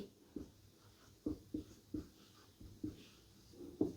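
Hand writing during a Sanskrit grammar lesson, quiet with a series of short scratchy strokes in an irregular rhythm, close by and faint, without speech over it.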